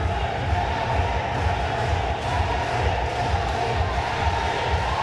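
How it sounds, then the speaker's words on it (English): A basketball crowd at an F Division men's final between DIMO and Legacy Health roars during a timeout, with Legacy fans loud: a dense, sustained wall of cheering and shouting with rhythmic chanting underneath and no distinct speech. "can hear the Legacy crowd going off in the background"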